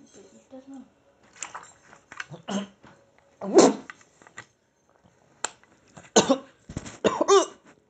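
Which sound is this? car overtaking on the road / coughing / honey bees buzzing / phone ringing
coughing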